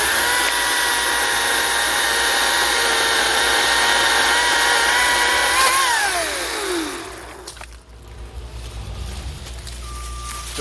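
Ryobi 40-volt cordless chainsaw cutting through a thick piece of firewood, a steady loud motor whine that drops in pitch as the chain bites, then winds down near the end with the saw idling quietly.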